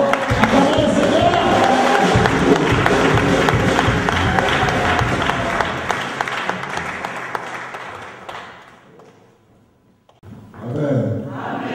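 A church convention congregation bursts into loud sustained applause and cheering that fades, drops to near silence, then swells again, with crowd voices mixed in.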